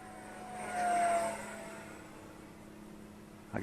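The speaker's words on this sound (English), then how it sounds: "Awesome jet." An Eachine F16 model jet with a 50mm electric ducted fan and 550mm wingspan, on 4S LiPo power, flies past outdoors with a rising and fading high-pitched whine that swells briefly, then settles into a distant steady hum.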